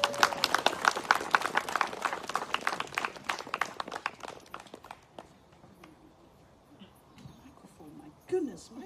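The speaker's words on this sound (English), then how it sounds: "Round of applause." A round of applause rises from a crowd, dense rapid clapping that is loud at first, then thins out and fades over several seconds before a brief louder noise at the end.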